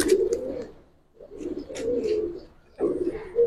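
Pigeons in a loft coo in three low, rolling bursts with short gaps between, close and moderately loud, with faint soft background noise and no clear talk.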